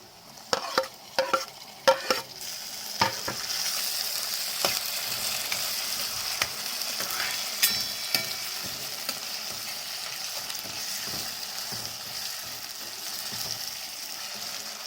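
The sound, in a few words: onions and tomatoes frying and being stirred in a pan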